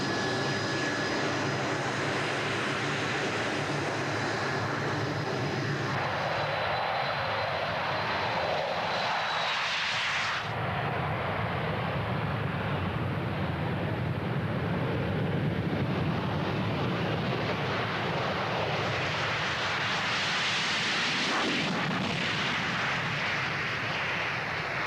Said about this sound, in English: Most of the RAF's Buccaneers are ex-Royal Navy.